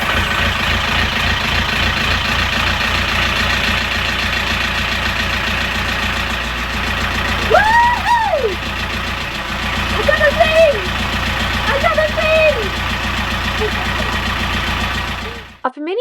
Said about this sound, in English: this is the crucial bit, will the engine start?